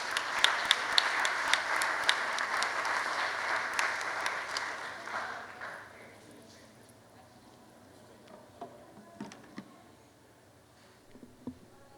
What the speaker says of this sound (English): Let's hear the applause again for all of you who have accompanied us with dignity and courage.